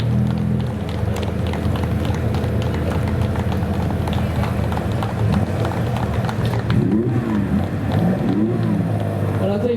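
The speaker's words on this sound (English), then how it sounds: "leaving the stage is the winner in the 1960s category. That is the 1960 Aston Martin DB4 GT Zagato." A 1960 Aston Martin DB4 GT Zagato pulls off a presentation stage at a concours of elegance, a low engine rumble under crowd noise that rises into revving sweeps near the end.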